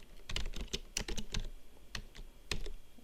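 Typing on a computer keyboard at close range: uneven bursts of sharp clicks and key taps in a quick irregular rhythm, with brief pauses between flurries and no talking.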